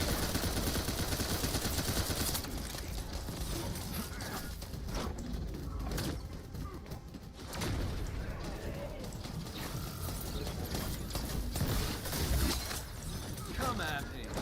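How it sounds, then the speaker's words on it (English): Assault turret fire in the shooter game The First Descendant, rapid bursts of gunfire rattling under steady talking, loudest at the start and continuing in uneven volleys. "Summoning assault turret."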